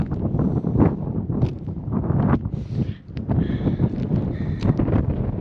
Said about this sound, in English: it's getting pretty windy up here